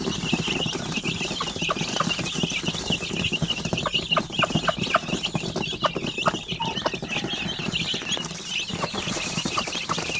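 A flock of about sixteen hungry native hens clucking close by, with continuous overlapping clucks and squawks that form a busy, restless chorus. No one speaks.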